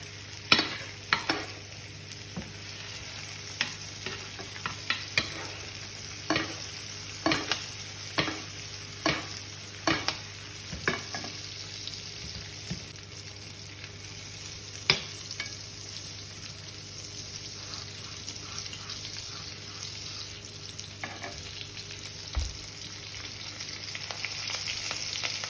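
A Hereford côte de boeuf bastes in melting butter with garlic, a constant close sizzle and crackle broken by repeated sharp spoon scrapes and clinks against the pan, with no one speaking.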